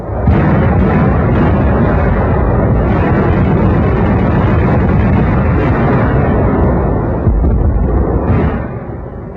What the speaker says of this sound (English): Anti-aircraft guns were fired point blank as anti-tank guns